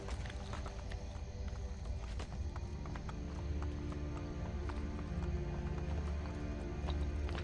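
Horse hooves clip-clop steadily at a walk in the video game Assassin's Creed Brotherhood, soft and continuous beneath a dense, humming game ambience with no voices.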